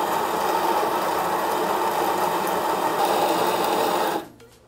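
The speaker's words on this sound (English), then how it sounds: "And we're gonna grind some espresso." Espresso beans ground in a coffee grinder next to a Lelit Bianca espresso machine: a loud, steady, close whirring grind that holds for about four seconds and then cuts off abruptly.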